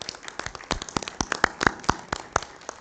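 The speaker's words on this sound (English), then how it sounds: "Let's give her a round of applause here." Applause breaks out for a speaker at a House Rural Development Council meeting, a small group clapping in a scattered, uneven patter of sharp close claps.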